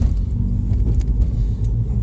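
A 2018 Ford Fiesta ST3 on the move, heard from inside the cabin as a steady, loud low rumble of engine and road noise with small rattles and no talk.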